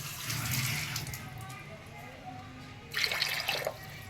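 Water is poured into a pressure cooker on a home kitchen stove, a soft splashing pour close by that comes in two short bursts with quiet gaps between them.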